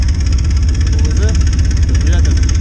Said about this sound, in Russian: человек поставил турбину на УМЗ карбюратор.